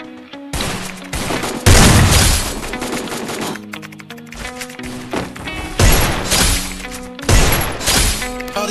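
Desert Eagle pistol fire in the Free Fire mobile shooter, loud booming shots in clustered bursts with gaps between, close and dominant over a low game soundtrack hum.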